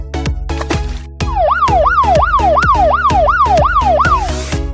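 A toy police car blares a rapid electronic yelp siren, rising and falling about twice a second over a pulsing beat, loud, close and without voices.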